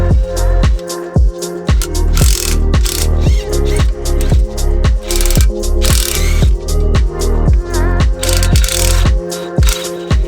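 A ratchet with a deep socket loosens bolts while removing the clutch of a third-generation Honda Prelude, a loud, close, rapid clicking in a steady rhythm over about ten seconds with brief pauses.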